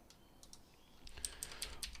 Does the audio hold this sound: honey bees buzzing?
no